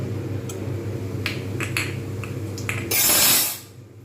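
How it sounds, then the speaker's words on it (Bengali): Panch phoron spices dropped into hot white oil in a wok give sharp scattered pops and crackles, then a brief loud sizzling burst near the end before quieting. "কড়াতে দিয়ে দিয়েছি সাদা তেল গরম হয়ে গেছে এর মধ্যে আমি দিয়ে দেবো পাঁচ ফোড়ন"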